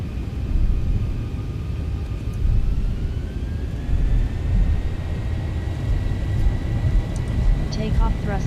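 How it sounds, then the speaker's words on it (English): Jet engines spooling up to takeoff thrust on a Zibo Mod Boeing 737 flight simulator at London Heathrow, a steady loud roar and rumble with a rising whine, no talk over it. "Takeoff thrust set."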